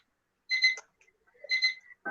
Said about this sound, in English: the timers remind me that 15 minutes passed since the time I put the rice on the pan